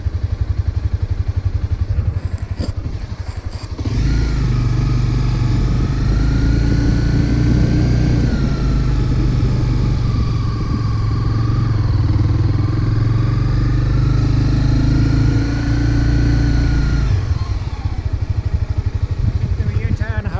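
A motorbike on a licence test range rides around, its engine a loud, steady buzzing drone with a rising and falling pitch as it moves, with a clattering idle before and after.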